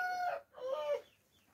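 A rooster crows twice in quick succession, loud and close on a goat farm, with a faint bird call trailing off afterward.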